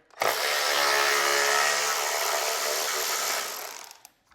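A 10mm socket on a ratchet or power driver spins out a cover bolt on a Bolens Powermore MTD snow blower, one continuous loud whirring buzz lasting about four seconds before stopping.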